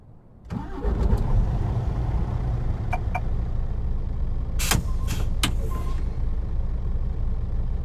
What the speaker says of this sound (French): Vous entendez les bons sons du camion, c'est les sons de chez EVR